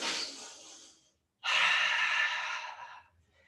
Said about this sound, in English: A few of these breaths.